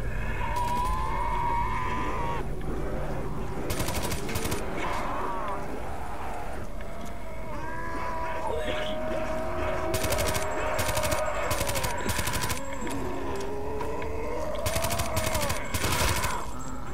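Call of Duty Black Ops 3 gunfire in sharp bursts of rapid shots that recur amid game music and effects, with a voice speaking at times.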